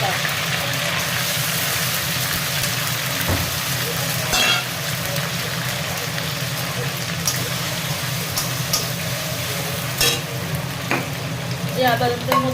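Ginger paste frying in a pan for potato and soybean biryani, a steady dense sizzle running throughout with occasional stirring clinks, close up, a voice faintly present beneath.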